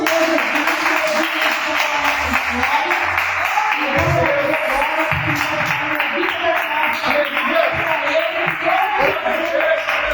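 A church congregation claps together during a Tuesday evening intercession service. The clapping is sustained and mixes with voices and tonal background sound in the hall, steady throughout.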